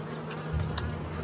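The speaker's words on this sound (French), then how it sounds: "C'est une ruche qui a déjà été traitée." Honey bees hum steadily around an already treated beehive, a faint continuous buzz with a few louder passes of individual bees close by.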